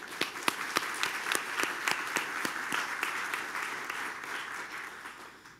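Applause rises from the audience at a police academy graduation ceremony, with distinct individual claps standing out over a dense patter that slowly fades toward the end.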